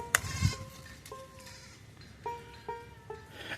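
Several short goat bleats come at intervals over a faint outdoor background, fairly close, with a thump near the start.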